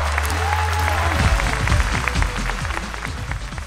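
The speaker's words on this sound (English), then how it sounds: "Give her a round of applause" Applause from an audience at a cruise ship illusion show, many hands clapping over a low, rumbling background, staying fairly steady before easing slightly.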